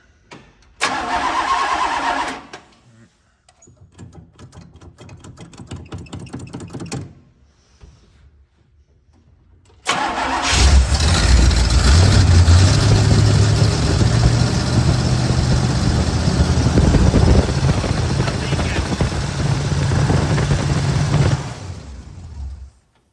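A 1965 Pontiac Catalina with a leaking carburetor cranks in short bursts, then catches and settles into a loud, steady idle up close for about ten seconds before shutting off.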